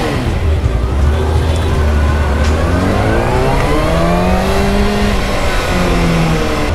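A motorbike at a college fest revs loudly up close and then pulls away, the engine pitch climbing and falling through several sweeping rises under continuous heavy engine noise.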